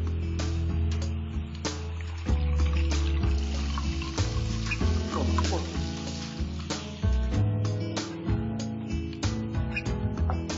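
Water added to quail masala frying in a pan gives loud, continuous sizzling and bubbling, with occasional stirring clatter and no voices over it.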